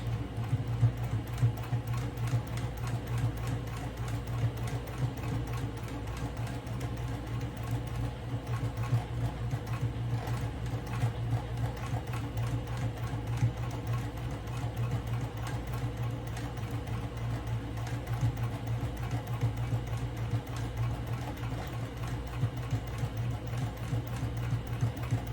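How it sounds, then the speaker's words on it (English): A sewing machine runs continuously, its rapid mechanical stitching rhythm humming steadily throughout at moderate volume. "now in the sewing machine, and we're going to start to sew"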